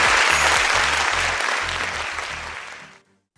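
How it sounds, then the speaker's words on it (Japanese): Loud applause from an audience fills the room with dense clapping, then gradually tapers and cuts off into silence after about three seconds. "聖人マザーテレサにもう一度盛大なる拍手を"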